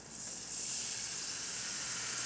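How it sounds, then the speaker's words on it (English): Cold water poured into a hot roux in a cooking pot for venison stew, giving a steady broadband sizzle and hiss that swells after a brief start and holds on without talk. "Hear that sizzle?"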